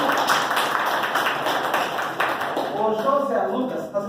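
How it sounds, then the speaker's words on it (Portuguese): Audience applause breaking out for a young guest at an adult literacy class, a steady patter of many hands clapping for several seconds, with voices talking over it near the end. "Um aplauso esse menino."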